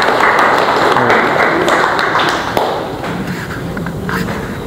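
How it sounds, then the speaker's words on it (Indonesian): Applause from an audience at a public selection hearing for a campus sexual violence prevention task force, a dense, steady wash of clapping that carries on throughout and eases off slightly toward the end. "Tepuk tangan untuk Bu Istiqomah"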